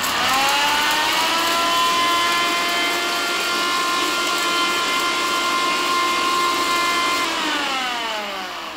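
Kitchen mixer grinder grinding peppercorns, fennel seeds and rose petals, a loud steady motor whine with rising pitch at start-up, running continuously and slowing down at the end.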